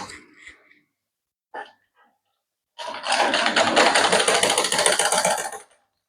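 Sewing machine stitching a shirt: a loud, continuous close whirring run of about three seconds after a few brief handling noises and a short breath or vocal sound.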